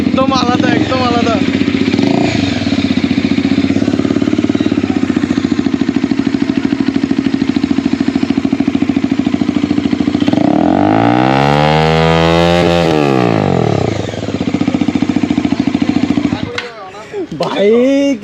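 Motorcycle engine running with its exhaust silencer fully removed, a loud, raw, steady idle that swells into a revving rise and fall before cutting off near the end, with voices briefly heard over it.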